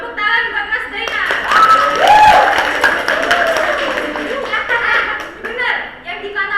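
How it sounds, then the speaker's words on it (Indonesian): An audience claps for a student presenter at a class project presentation on osteoporosis. The clapping is steady and fairly loud throughout, mixed with chuckles, a few whoops and overlapping chatter. "Tepuk tangan buat Mas Dainar."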